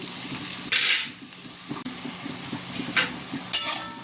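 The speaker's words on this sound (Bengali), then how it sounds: "চলো তাহলে পেঁয়াজগুলো চট করে ভেজে নিই" Onions frying in a pan until browned, a low steady sizzle stirred through with scraping, a few brighter scrapes or clinks of a utensil against the pan rising now and then, no voices.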